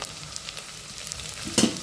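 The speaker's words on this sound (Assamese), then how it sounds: "শুকান জলকীয়া দি 3টামান আৰু অকণমান পিঁয়াজ এনেকৈ ভাজি লৈছোঁ" Onions and three dried chillies fry in hot oil with a steady, soft sizzle throughout, then a brief louder crackle near the end as the pan is stirred or more goes in.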